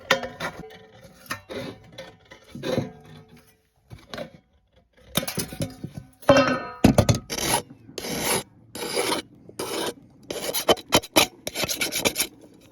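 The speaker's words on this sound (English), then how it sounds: "You're going to file the edges, and then you're also going to sand the edges" A metal file rasps along the freshly snipped edges of a coffee tin, giving a series of dry scraping strokes in uneven bursts, sparse at first and then quicker and denser, close and clear with no talking.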